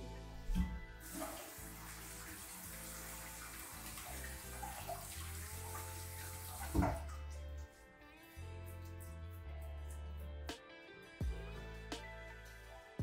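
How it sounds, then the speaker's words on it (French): Fruit rinsed under a running kitchen tap, a steady close splash of water for several seconds, then shorter bursts with drips and handling clatter as the flow stops and starts. "je vais les passer à l'eau"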